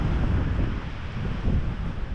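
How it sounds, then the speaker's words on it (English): Wind blowing along Deep Gap Trail on Mount Mitchell on a chilly autumn day, a steady low rushing buffet close to the microphone, partly broken by tree cover and continuous throughout. "just a little bit of a breeze getting through"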